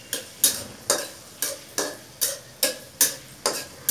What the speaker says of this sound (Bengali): নাড়াচাড়া করবেন, একটুখানি করতে থাকুন